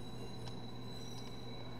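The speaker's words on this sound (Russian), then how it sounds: "О, как раз поезд у нас." A subway train pulls into a station in the video game Watch Dogs, a steady low rumble with a faint high whine and a few brief squeals, alone and without talk.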